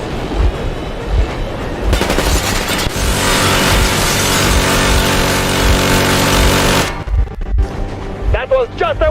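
Machine gun warning shots from armored pursuers in the Metro Exodus video game on hardcore mode: a loud, sustained burst of rapid automatic fire lasting several seconds, then clattering, scraping game sounds.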